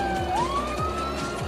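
In the Emergency Ambulance Simulator video game, an ambulance siren wails at full volume, a rising tone over a repeating yelp, steady and close over the hum of the vehicle's engine.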